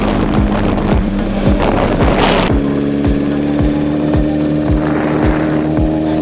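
A car driving along an unfamiliar rural road on an autumn evening, with a loud, steady engine and tire roar, rhythmic thumps from road joints, and a brief whooshing swell partway through.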